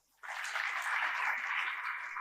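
An audience at a literature festival cultural session in Chennai breaks into sudden applause, a dense, sustained clatter of clapping hands that starts abruptly and holds steady.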